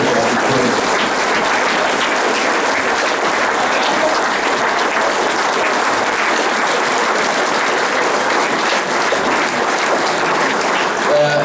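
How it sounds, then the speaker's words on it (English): Football fans applaud at a club's awards presentation, a loud, sustained crowd clapping that runs unbroken for over ten seconds as a continuous dense roar of hands. "Round of applause for those people."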